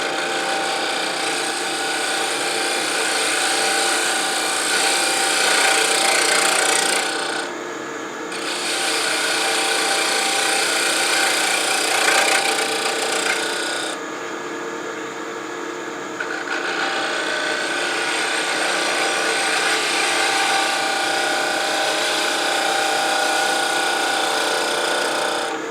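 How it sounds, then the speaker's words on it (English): Wood lathe turning tool cutting a multi-axis wooden pendant, a continuous loud hissing scrape of the cut with two brief dips where the tool lifts off, no speech. "Anchor the tool, ride the bevel, lift till it cuts."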